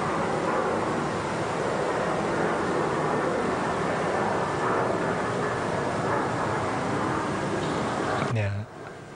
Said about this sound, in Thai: พอเสียง เครื่องบินมา